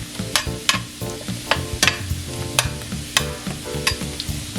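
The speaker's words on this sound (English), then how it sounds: "in this other pan, I'm going to start my Brussels sprouts. This is the same butter and avocado oil, and it's on pretty high heat" Brussels sprouts fry in butter and avocado oil over high heat, with steady sizzling and a run of sharp scraping stir strokes close by, no voices.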